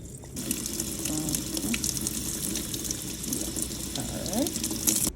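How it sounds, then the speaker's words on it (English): Running tap water pours steadily over lemongrass (fever grass) being rinsed in a sink, a close, continuous splashing gush that holds throughout. "we're going to rinse off the fever grass so we can put it in the pot"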